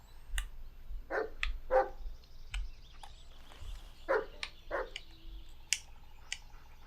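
In the Blair Witch video game, a dog barks several times in short, sharp bursts at moderate distance, with quieter yips and game ambience between the barks.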